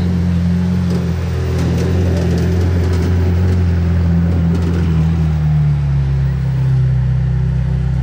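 McLaren Senna supercar passing through Place du Casino in Monaco, a loud, close engine roar holding a steady drone that shifts lower as it goes by, with people talking under it.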